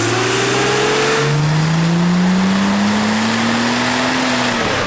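An Alfa GTV engine revs hard on a dyno, a loud, close, sustained pull with the pitch climbing steadily before it drops off at the end, alone without voices.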